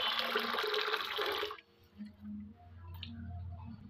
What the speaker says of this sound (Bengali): বাটির ভিতরে দিয়ে দেবো আমি জল।